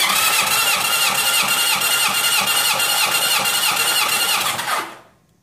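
A Honda CB750 motorcycle engine is cranked over by the starter for a compression check, giving a loud, steady rhythmic churning with even pulses that carries on for about five seconds before stopping abruptly, with no speech.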